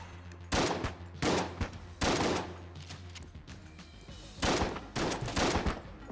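Enemy shotgun fire in Enter the Gungeon, several loud blasts in quick bursts with short gaps between volleys, close and punchy.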